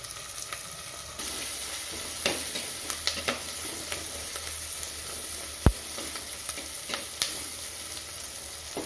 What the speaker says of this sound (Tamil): உப்பு சேர்த்ததால் சீக்கிரம் வெங்காயம் பூண்டு வதங்கும் ஒரு மூணு நிமிஷம் வதக்கணும்